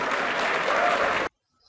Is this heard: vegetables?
no